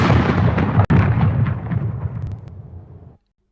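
A booming cannon shot in a Nutcracker story, a loud deep blast with a sharp crack near the start, rolling on for about three seconds before cutting off abruptly.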